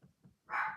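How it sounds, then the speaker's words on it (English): Dogs bark indoors in the background of a home crafting session, two short low barks followed by a louder, longer yelp-like bark up close. "Sorry for the dogs barking."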